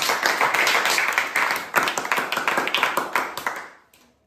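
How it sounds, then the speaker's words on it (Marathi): A group claps in quick, steady applause for a student for a few seconds, loud and close, then it dies away. "एकदा टाळ्या वाजवा"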